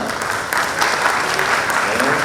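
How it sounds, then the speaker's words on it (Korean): An audience at a baseball team manager's inauguration ceremony for the NC Dinos claps loudly and steadily in a short, dense burst. "여러분 박수 부탁드리겠습니다"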